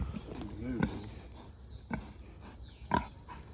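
Pigs in a farm paddock give three short, low grunts spaced about a second apart, close by over a soft outdoor background.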